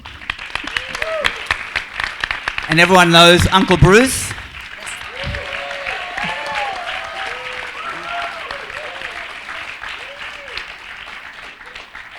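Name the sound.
audience applause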